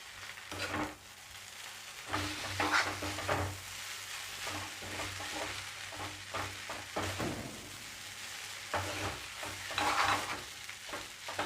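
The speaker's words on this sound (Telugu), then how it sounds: "సో ఇప్పుడు ఇవన్నీ కలిసేదాకా కలపాలి." Egg noodles are stirred with pepper powder, chili powder and salt in a hot pan, with continuous scraping and tossing over a steady sizzle.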